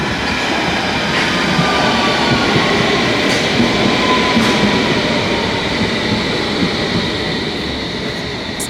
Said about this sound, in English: coming in now is our train, our S8 stock Metropolitan line train, finally coming into Amersham